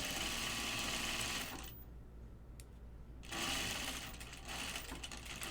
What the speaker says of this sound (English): Sewing over my pins like the bad girl I am.